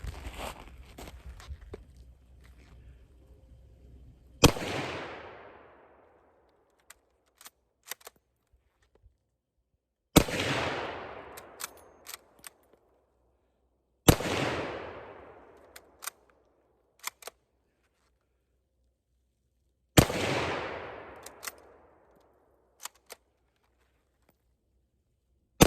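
A Mosin Nagant 1891 rifle fires four sharp, loud shots at roughly five-second intervals, each followed by a decaying outdoor echo, with small clicks and handling noises between them.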